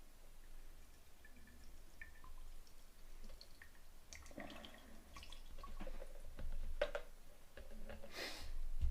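Vinegar trickles and splashes into a glass jar of garden material, faint irregular liquid sounds and drips building toward the end, close and quiet with no talk.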